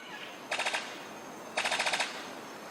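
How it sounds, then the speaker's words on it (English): Two bursts of rapid, rattling staccato notes from a sicklebill bird of paradise's courtship song, each about half a second of machine-gun-like clatter, separated by a pause over quiet background. "His courtship song sounds like a machine gun."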